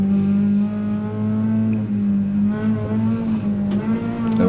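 Race car held at full throttle on a circuit, a loud steady engine drone with shifting pitch as the car runs through a corner, tires faintly squealing near the end.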